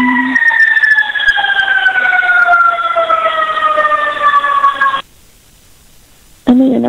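A loud, steady wailing siren drones with a slowly falling pitch, then stops suddenly; after a brief quiet a short tone starts again.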